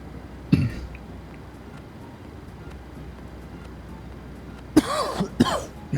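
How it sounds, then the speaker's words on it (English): A man coughs twice near the end, a short harsh burst followed by another, over a steady low hum of a flight-simulator setting; an earlier faint cough-like sound appears near the start. "I keep coughing and stuff too."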